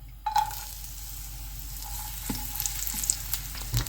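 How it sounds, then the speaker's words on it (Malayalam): Coconut slices sizzle and fry in hot oil in a pan, a steady close crackle that starts with a sharp burst as they drop in, with occasional small pops and stirring clicks. "ഇപ്പോൾ നമ്മൾ എണ്ണ ചൂടായി, നമുക്ക് ഇതിൻ്റെ അകത്തേക്ക് കോക്കനട്ട് സ്ലൈസ് ഇട്ട് കൊടുക്കാം."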